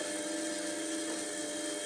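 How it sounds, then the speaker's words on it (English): A fan inside an Athorbot Buddy Couple dual extrusion 3D printer gives a steady, close whirring drone with a faint rattle from something caught in the blades, continuous and alone. "Now something is rattling in that fan,"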